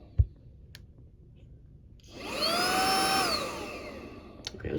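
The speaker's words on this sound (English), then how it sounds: "Okay, turn on your vacuum." Vacuum cleaner starting up after a sharp click and running steadily for a couple of seconds on a Meta Quest Touch controller being treated for stick drift, its whine rising and then dropping away, close and loud.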